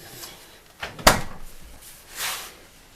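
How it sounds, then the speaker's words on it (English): Refrigerator doors being shut, a soft bump, then a sharp close thud, followed by a fainter rubbing sound as the seal settles, close by with no voices. "And you can close the doors to the refrigerator"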